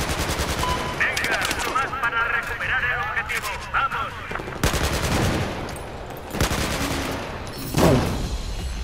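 Gunfire in a Battlefield 4 multiplayer match: rapid machine-gun bursts and sharp single shots, loud and dense throughout, mixed with someone talking over the action.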